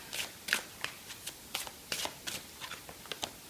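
Tarot cards are shuffled and drawn by hand, a string of soft papery riffles and slaps at irregular intervals, close and fairly quiet with no talking.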